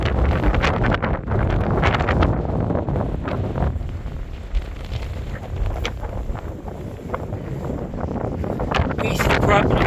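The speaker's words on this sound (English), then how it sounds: "this time it's going to be a good test with these winds" Strong wind on an exposed spot on the Isle of Man buffets an OEX Bobcat 1 tent, a constant loud roar with gusts battering the microphone for the whole stretch and no clear voices.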